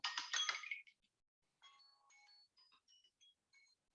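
A phone ringtone plays during a lesson on building a SQL Server database in Visual Studio 2019: a bright burst of chiming tones followed by several shorter melodic beeps, moderately loud and with no talking over it.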